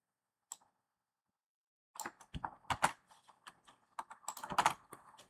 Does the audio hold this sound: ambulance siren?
no